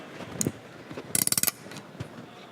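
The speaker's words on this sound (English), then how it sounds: "now you just put the tightening cap on by hand, and hopefully you hear some clicks" A Levolution tile leveling tightening cap is pushed by hand onto a plastic stem between tiles at a trade show demo stage, giving a quick run of about eight sharp ratcheting clicks amid a few scattered handling taps.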